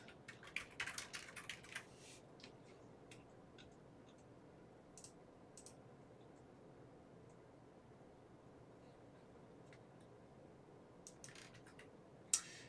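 Keyboard typing at a desktop computer, a quick burst of clustered keystrokes at the start and scattered taps later, faint against a steady noise floor, with no talking.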